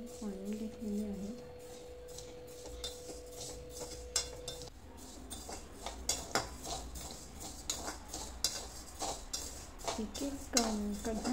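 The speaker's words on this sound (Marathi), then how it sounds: "तांदूळ भाजून घेतो." Rice for thalipeeth bhajani roasts dry in a pan. A spoon or spatula stirs it in repeated scrapes and metallic clinks that come irregularly. A faint tonal hum runs under the first part, and a voice speaks quietly at the start and end.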